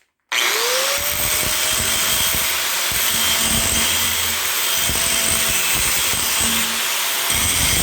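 A power grinder runs steadily and loudly through repair work on a Case D tractor's front end stabilizer, its whine rising as it spins up and then holding a harsh, continuous drone with no speech.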